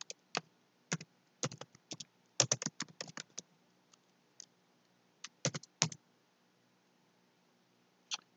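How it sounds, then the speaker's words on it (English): Typing on a computer keyboard in the nano text editor: short clustered bursts of crisp key clicks with gaps between, close and quiet, no speech. "I can press enter, create new lines, and type maybe hello world."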